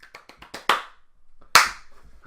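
Hands clapping indoors, a short run of quick light claps followed by two louder, sharper claps spaced apart, close to the listener with no talking.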